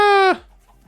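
A single loud, drawn-out animal call from a chicken in the video game Minecraft, close and clear, breaking off sharply and leaving near silence.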